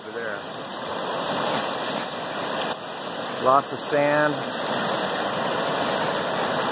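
A creek running high after a rise in water gives a steady rushing flow close by, while someone speaks briefly over it.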